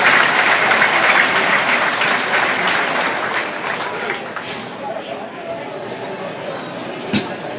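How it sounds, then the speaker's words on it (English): A large audience at a livestock show breaks into loud, sustained applause that gradually fades over several seconds, with a little crowd murmur mixed in. "Give him a round of applause"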